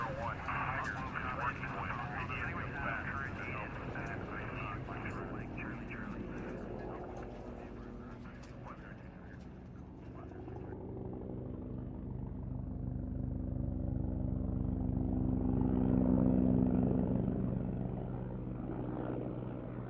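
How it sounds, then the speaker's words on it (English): Helicopters buzz overhead in a radio drama, a low rotor drone building and swelling toward the end beneath a voice and dramatic music. "as helicopters buzzed overhead"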